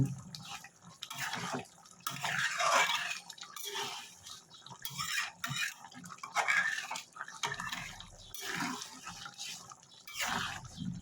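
Water poured into a pot of taro and prawn curry, uneven splashing and trickling in several bursts with short pauses between, close and clear with no talk.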